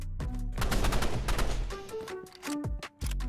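Rapid bursts of gunfire from sniper rifles in the Roblox game Rivals, loud and dense at first, then thinning into separate sharp shots with game tones between them.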